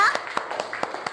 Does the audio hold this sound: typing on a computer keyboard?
no